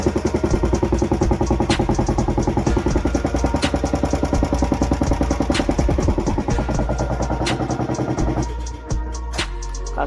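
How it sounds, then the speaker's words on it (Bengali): A Royal Enfield Classic 350 BS6 single-cylinder engine runs at idle with an abnormal rhythmic ticking and clatter, steady and close, before the beat changes near the end. "এই গাড়িটা স্টার্ট করলে ইঞ্জিনে একটি সাউন্ড আসছে"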